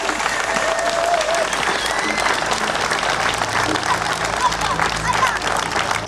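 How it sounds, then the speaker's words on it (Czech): Dense, loud applause from an outdoor audience at a Kostelní Lhota village community event, a continuous wash of many hands clapping with faint crowd murmur throughout. "A právě těmto všem lidem, kteří se toho účastnili, bychom měli opět pořádně zatleskat."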